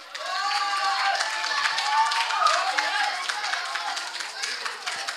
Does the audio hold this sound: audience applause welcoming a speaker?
yes